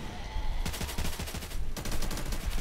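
Rapid bursts of gunfire from players shooting zombies in a Roblox game, loud and dense, with a short lull before the shooting resumes.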